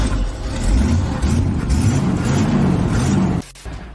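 A Chevrolet Impala engine runs loud and close with a dense, steady rumble for several seconds, then cuts off abruptly near the end.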